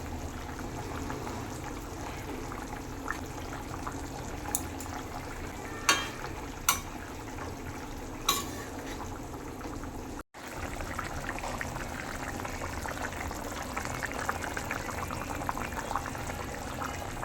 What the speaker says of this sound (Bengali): মাছ দেওয়ার পর 5 মিনিটের মতন ফুটিয়ে নিচ্ছি।